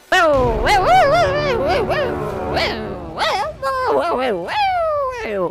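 A dog whimpers and yips in a continuous run of high, wavering whines and sharp cries, loud and close, with the pitch sliding up and down throughout.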